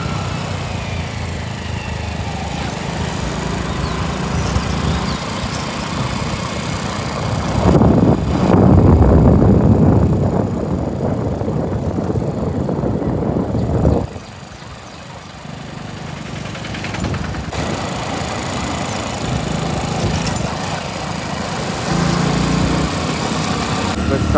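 A motorbike carrying two riders sets off on a road trip toward Sarangpur, its light engine droning steadily and close with wind buffeting the microphone, the note swelling and dropping as it rides along.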